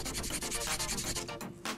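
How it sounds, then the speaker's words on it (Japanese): Sandpaper rubs back and forth on a plastic part from a Hasegawa/Monogram 1/25 1959 Cadillac Eldorado Biarritz model kit, a close, continuous rasping scrub with rhythmic strokes and a brief pause near the end. "ここをちょっとヤスリがけして"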